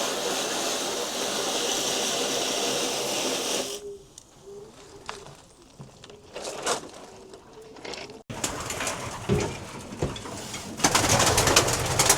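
Pigeons coo in soft, repeated rolling calls close by, partly under a loud steady engine-like hum that cuts out and returns, with no talking.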